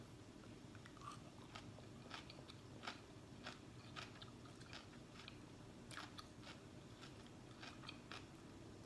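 Crisp, repeated crunching bites and chewing on a salad of boiled bean sprouts and cucumber, close and fairly quiet, with an irregular rhythm of sharp crunches and no talking.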